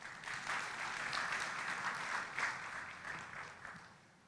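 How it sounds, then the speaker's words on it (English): Audience applause in a hall at the COMESA Business Forum at KICC in Nairobi, a sustained even wash of many hands clapping from a distance, fading toward the end. "let's give him a round of applause"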